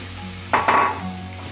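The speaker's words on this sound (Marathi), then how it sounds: "तेल गरम झाल्यावर यात बारीक चिरलेला कांदा," Finely chopped onion drops into hot oil in a kadhai and sizzles sharply in two quick bursts, then settles to a quieter, steady fizz close by.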